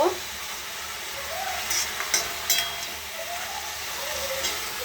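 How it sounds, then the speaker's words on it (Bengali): Ash gourd being sautéed in a pan sizzles and hisses steadily, with a few louder spatters and scraping stirs along the way and no talking. "চাল কুমড়োটাকে কষে নিচ্ছি, পরে পোস্তটা দিয়ে দেব।"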